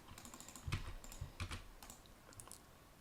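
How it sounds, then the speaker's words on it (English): Keys clatter on a computer keyboard as a project name is typed, a quick irregular run of close, light clicks in a quiet room. "So I'm just typing in John Brown."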